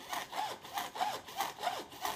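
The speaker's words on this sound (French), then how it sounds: "Sciez le tuyau sur mesure avec la scie à métaux." A hacksaw cuts through pipe in steady back-and-forth strokes, about six even rasping passes, close and clear with no voices.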